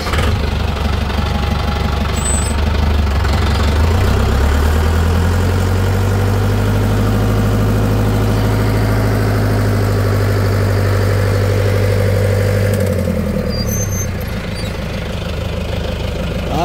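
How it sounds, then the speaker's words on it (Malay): A tractor engine cranks and fires up, then settles into a loud, steady, knocking diesel idle that holds close and constant, with the pitch easing slightly near the end. "Pertama kita hidupkan traktor macam biasa lah."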